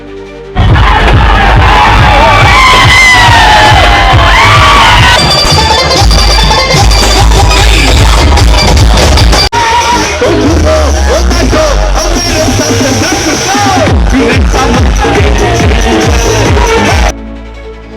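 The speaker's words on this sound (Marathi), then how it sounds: "डीजे ढोल ताशे आणि फटाक्याच्या अतिशबाजी करण्यात आल्या" Election victory celebration in Ratnagiri with a loud, dense crowd din, drumming, bell-like clanging and cheering sustained throughout, pausing briefly midway before resuming.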